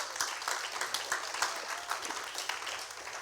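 Church congregation applauding together, a dense, continuous patter of many hands at moderate distance, steady throughout with faint voices underneath.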